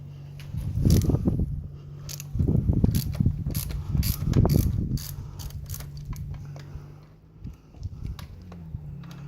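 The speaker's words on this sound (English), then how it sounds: "what we're going to do is we're going to unloosen the one that we tightened down already." Ratchet clicking while loosening the front axle bolt on a dirt bike, several bursts of rapid mechanical ratcheting close by, separated by short pauses, with no talking.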